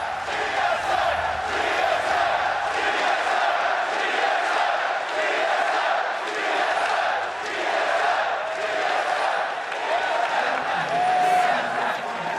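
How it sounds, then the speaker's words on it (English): A large esports arena crowd at a TSM vs SSG group stage match chants and cheers in a sustained, loud, reverberant roar with rhythmic swells, continuing steadily for the whole stretch. "Sometimes you have to take a step back and appreciate the crowd."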